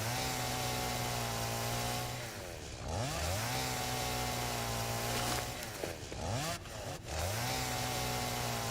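In Satisfactory, a video game chainsaw drones loud and near through repeated cuts, its motor pitch dipping and recovering three times as it slices through growth, with no voices.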